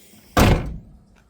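The door of a 1979 Pontiac Trans Am yard-find car is shut once, a single loud, close slam with a short metallic ring-out and no talking.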